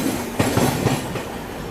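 The Purushottam Express at a railway station, a loud close rumble with rhythmic clattering wheel clicks over steady broadband noise.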